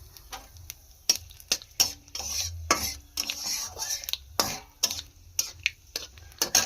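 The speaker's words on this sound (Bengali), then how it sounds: "দেখো একটা কলা কেটেছি আর ছোট্ট করে একটু ফোড়ন দিচ্ছি কালো জিরে দিয়ে।" Black cumin seeds tempering with cut banana in a little hot oil, quiet sizzling punctuated by sharp clinks and scrapes of a utensil against the pan.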